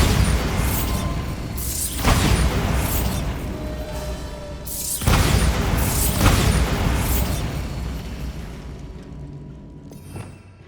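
Bombarda blasting spell explosions in Hogwarts Legacy: several heavy booms burst out one after another, each with a crackling, rumbling decay, the last dying away into quiet.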